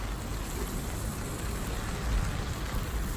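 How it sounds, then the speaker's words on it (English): Heavy rain pouring down steadily outdoors, a dense continuous hiss of drops with a brief swell in intensity near the end, no voices. "now it's raining again"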